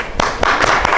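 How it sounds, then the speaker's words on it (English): Classroom hand clapping comes as a few sharp, evenly spaced claps, close and fairly loud, with faint room noise between them. "Clap hands for him."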